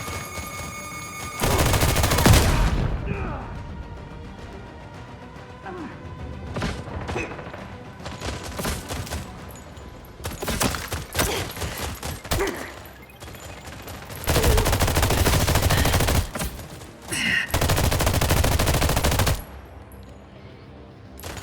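Squad weapons firing in The Expanse: Osiris Reborn video game, with long sustained bursts of automatic gunfire broken by shorter volleys and thuds, loud and close, with no talk over them.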